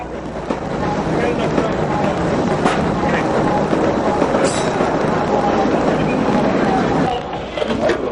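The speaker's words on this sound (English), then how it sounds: "we just had the southbound number 2 train move out of here at 125 in Lenox" A southbound number 2 New York City subway train rumbles out of the 125th Street station on Lenox Avenue with a loud, continuous roar and rattle while people talk over it.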